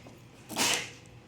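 A single short, breathy burst, like a quick sneeze, rises and fades within half a second against a quiet background.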